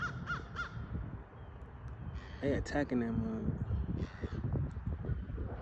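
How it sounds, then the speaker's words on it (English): Outdoors, three crows caw harshly in repeated bursts while mobbing a hawk, loud and fairly close, with wind and rustling in the background as someone talks over them. "three like crows trying to fight a hawk"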